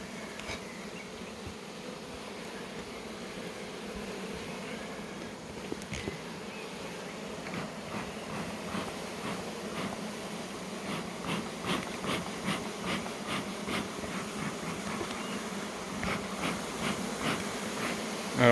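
A honeybee swarm in April heads back into a hive, a dense steady buzzing of many bees that grows a little louder over time, with scattered rustles and faint ticks near the entrance.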